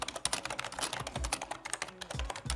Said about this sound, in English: And then here is the typing test for this thing.